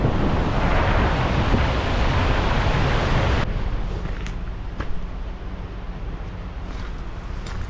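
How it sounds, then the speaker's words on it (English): Breezy outdoor wind in Alaska in cool weather, a loud steady roar buffeting the microphone that drops abruptly to a softer rushing hiss partway through. "It's a little breezy out here."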